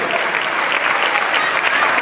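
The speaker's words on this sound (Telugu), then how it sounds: "come on huge round of applause for them" A large audience breaks into steady, dense applause, continuous clapping close by that holds evenly throughout.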